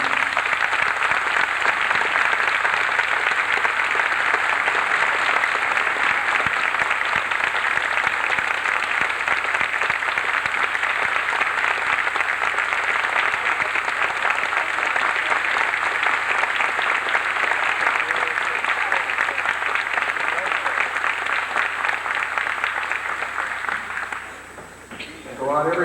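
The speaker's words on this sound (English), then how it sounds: "give them a nice round of applause for the job they have done" Sustained audience applause at a 1984 Wickliffe High School marching band concert, a dense, loud roar of clapping lasting nearly half a minute before tapering off at the end.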